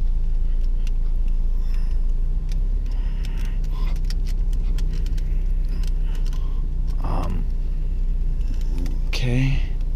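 A Chevy car drives slowly back into a parking spot, its low engine rumble and road noise steady throughout, with faint clicks inside the cabin and brief voices near the end.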